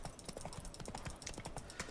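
A horse's hooves clip-clop in The Witcher 3 during gameplay: a quiet, steady trot of soft beats set under a dense wash of game sound and music.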